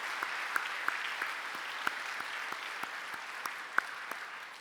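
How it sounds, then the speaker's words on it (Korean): Congregation at a church early-morning prayer meeting applauding, a fairly soft, even spread of many hands clapping with a few louder individual claps popping out near by. "큰 박수로 함께 감사의 마음을 전하겠습니다"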